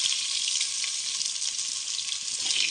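Chopped pumpkin, potato, eggplant and pointed gourd fry in a pan with a steady, bright, hissing sizzle that continues evenly throughout, close and moderately quiet.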